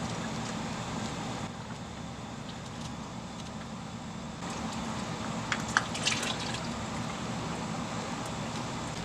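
Motor oil drains from a Nissan Rogue into a drain pan, a soft continuous trickle and patter of liquid under a low steady background hum.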